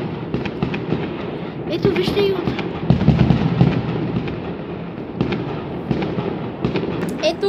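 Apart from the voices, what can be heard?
New Year's fireworks exploding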